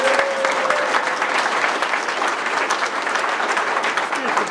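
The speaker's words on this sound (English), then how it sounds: "Ladies and gentlemen, why don't you give a warm round of applause?" An audience at a ceremony breaks into warm applause, a dense and continuous patter of many hands at close range, with a voice briefly heard over the clapping.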